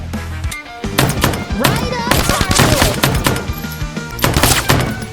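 Rapid bursts of gunfire ring out in Greedshot, an anime-styled co-op arena shooter, with dense overlapping shots and impacts, loud and up close, while a voice speaks briefly over the action.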